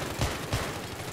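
Gunfire from a shooting video game, two low booming shots about a third of a second apart over a steady background hum, played back at moderate level with no talk.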